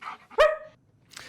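A dog gives a single sharp bark, loud and close, with a short yip-like sound just before and faint noise trailing after.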